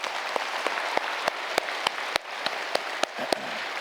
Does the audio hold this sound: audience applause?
yes